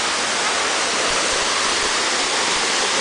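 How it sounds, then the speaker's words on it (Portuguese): Waterfall inside a zoo animal enclosure, a dense, steady roar of falling water, close and loud, with no voices. "Só ele tem cachoeira no zoológico."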